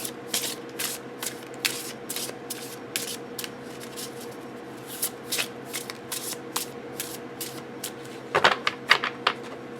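A deck of tarot cards shuffled briskly again and again, crisp riffling bursts with short pauses, close and fairly quiet, ending in a quicker flurry.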